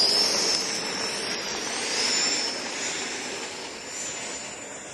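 A jet airplane's engines roar in a steady, loud whine that swells and fades slightly, holding continuously through the takeoff with no voices.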